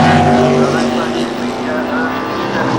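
A 1990 Santa Pod Thunderball dragster roars away from the start line, a loud, sustained engine blast with strong harmonic tones that holds steady for the whole stretch, close and dominant, with a commentator talking over it.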